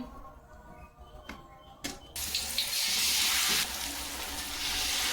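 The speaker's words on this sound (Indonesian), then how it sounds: "Ini tahu isinya ya, kita goreng duluan." Stuffed tofu drops into hot oil in a home kitchen, and a loud, steady sizzling hiss swells up after some quieter clatter and continues to the end.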